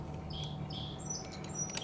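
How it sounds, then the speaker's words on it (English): Birds chirp and sing outside on a Saturday morning, short bright calls repeating over a steady low hum, faint and distant, with no talk. "You can hear the birds out there. They're just going crazy. Singing their song."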